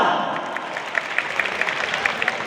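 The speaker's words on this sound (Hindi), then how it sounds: "ताली बनी जोरदार बजाओ ना" Steady, crackling applause from a crowd at the launch event of a Chhattisgarhi OTT app, many hands clapping together at a moderate distance, with little talk.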